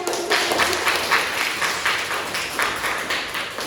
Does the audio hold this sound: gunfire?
no